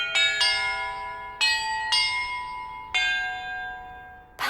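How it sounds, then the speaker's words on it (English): Church bells in Hogwarts Legacy ring out in six bright, resonant strikes spaced irregularly. Each tone rings on and decays before the next, clear and alone, with no voices. "Perhaps the map contains clues about the order I'm supposed to ring the bells in."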